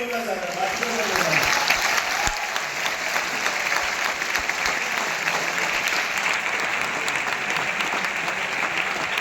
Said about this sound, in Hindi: इनके लिए बस वही ताली बजाएगा जो खुद जीडीडी बनना चाहता है